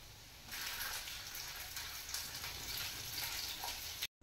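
Pointed gourds tossed into a pan with chopped onion and green chilli set up a steady, close sizzling hiss that starts abruptly and keeps an even crackle throughout, with no talking over it.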